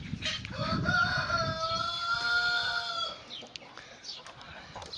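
Chickens cluck and a rooster crows loudly close by in a yard where a coop is being built, with a few faint voices in the background.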